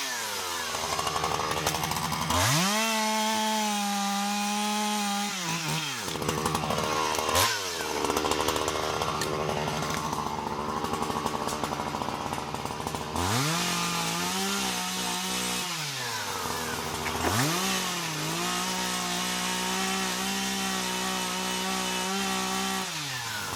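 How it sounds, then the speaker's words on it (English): A Husqvarna 395 XPG chainsaw with a 90cm bar roars loudly and close, felling a large tree, its engine pitch dropping as the blade bogs into thick wood and rising again between cuts, repeated over several passes. "This powerhouse chainsaw, equipped with a 90cm blade, is designed for the toughest jobs."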